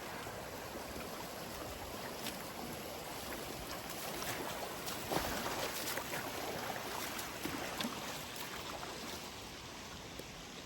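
A stream rushes and trickles over rocks at a fording site on a hiking trail, with steady broadband water noise close by and a few brighter splashes.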